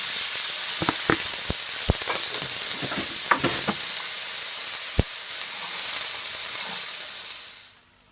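Steady, loud sizzling of onions, garlic and chopped tomato frying in hot oil, with scattered clicks of a utensil stirring, fading out at the end.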